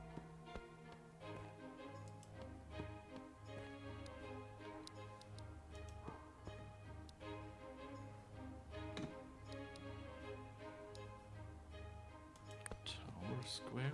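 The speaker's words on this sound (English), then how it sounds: "you can hear a clock tower in the background" A clock tower ticks steadily in the background of the Near Mage video game, an even, faint rhythmic tick running under soft music while a person talks.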